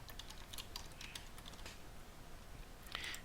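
Fingers tap out a name on a computer keyboard, a quick, faint run of light key clicks in an uneven rhythm, ending in a small burst of keystrokes.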